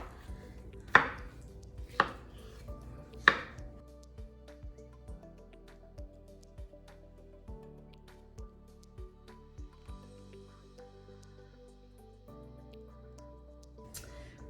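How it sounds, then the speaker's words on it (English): Knife chopping steamed sweet potatoes into chunks on a cutting board, a few sharp close thuds at first, then a steady run of softer, quicker cuts, with no talking. "I'm just gonna cut them up just a little bit, throw them in this bowl"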